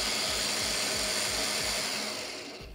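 A Fein magnetic drill running at its low speed setting, a steady close mechanical whir with a faint rhythmic pulsing, winding down slightly toward the end.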